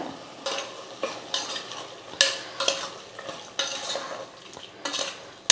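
Spinach and green chili paste sautéing in a pan over low heat with salt and turmeric, a soft sizzle broken by repeated scraping and stirring strokes of a utensil against the pan, close and moderately loud, no voices.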